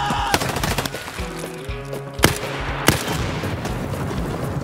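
Grenade explosions and gunfire in the shooter Escape From Tarkov near an electrical substation: steady rattling gunfire with two sharp, loud blasts standing out partway through.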